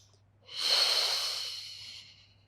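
One long breath during a beginner Pilates spine mobility exercise. It swells in, then fades slowly over about two seconds, close and airy, with no talking.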